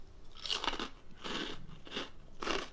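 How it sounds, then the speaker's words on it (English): Crunchy Parmesan cheese wisps being bitten and chewed up close, four loud crackling crunches in a steady rhythm with short pauses between. "You get a nice crunch."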